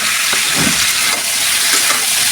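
Green tomatoes fry loudly in a pan, a dense close sizzle with intermittent scraping strokes of a spatula as they are stirred, no talking.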